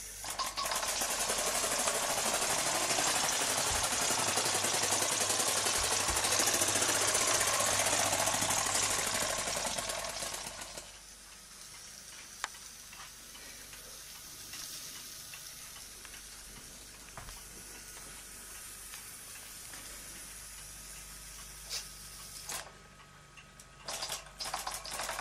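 A steam charabanc runs at full steam, first a loud hissing roar with rapid ticking, then after about ten seconds a much quieter idle with faint ticks and knocks, alone without talking.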